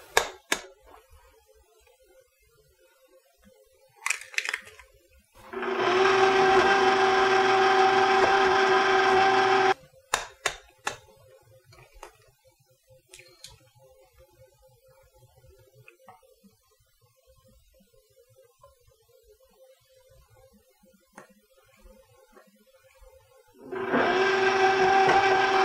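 Electric hand mixer beating eggs and vanilla into wet pumpkin cookie batter, a steady loud whirring drone in one long burst, then quiet clinks, then another burst starting near the end.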